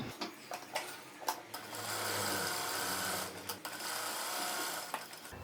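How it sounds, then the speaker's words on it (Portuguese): A sewing machine runs a gathering seam along the edge of cut ruffles for a pantacourt jumpsuit, starting with short bursts and then a steady, close whirring stitch that pauses briefly before resuming. "Então eu vou passar uma costura aqui, pegando de uma ponta, saindo até a outra, para eu dar um leve franzido aqui."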